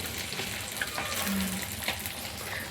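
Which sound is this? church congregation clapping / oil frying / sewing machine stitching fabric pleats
oil frying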